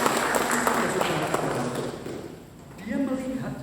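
A church congregation claps during a worship service, a dense wash of applause that fades midway before a preacher's voice takes over.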